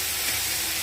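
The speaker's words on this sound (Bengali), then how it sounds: "এবার আস্তে আস্তে কষানো হচ্ছে মাংস।" Chicken sizzles steadily in hot oil with spice paste as it is sautéed, a close, constant frying hiss with no voices.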